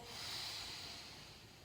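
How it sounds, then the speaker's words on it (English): A deep breath drawn in during a children's yoga session, heard as a single steady airy inhale close to the microphone, soft and unbroken for almost two seconds with no talking. "We're gonna do a big breath"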